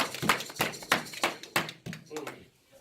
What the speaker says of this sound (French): Est-ce que quelqu'un peut donner une main d'acclamation pour la parole de Dieu?